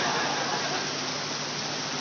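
Rain falls in a continuous, even hiss of dense drops, steady and fairly close with no breaks and no one speaking.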